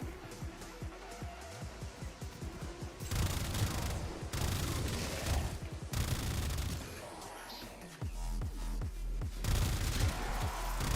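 Rapid gunfire from a weapon in the sci-fi shooter Warframe, heard as rhythmic bursts of sharp shots with heavy booming impacts in between, loud and continuous through the stretch.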